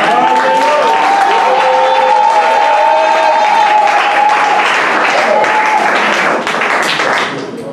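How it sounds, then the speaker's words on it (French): Church congregation applauding offerings at a deaconess and preacher consecration service, loud sustained clapping with cheers throughout, a held tonal line like organ or voices early on, tapering near the end. "On dit d'acclamer pour les offrandes"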